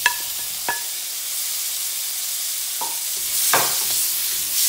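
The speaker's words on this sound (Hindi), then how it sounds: "हम इसे फ्राई कर लेंगे।" Spiced paneer frying in melted butter in a pan, a steady soft sizzle with a few metallic clinks of a utensil and a louder hiss swelling near the end, no talking.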